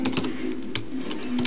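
Computer keyboard keys clacking in a quick, uneven run of close, moderately loud taps while code is entered, with no talking.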